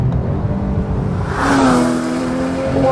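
Porsche 911 GT3 with a 3.8 DFI flat-six accelerates hard from inside the car, a loud droning engine tone climbing steadily in pitch as revs rise, alone without talk.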